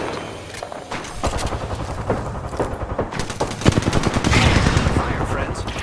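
Bursts of automatic gunfire in Apex Legends, rapid rattling volleys with sharp single shots mixed in, sustained at close range over several seconds.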